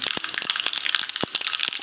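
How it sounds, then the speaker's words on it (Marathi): Mustard seeds crackle and spatter in about three tablespoons of hot oil for a Marathi-style raw mango pickle tempering, a dense run of sharp, close pops and snaps. "मोहरी चांगली तडतडली की मग हिंग घालते।"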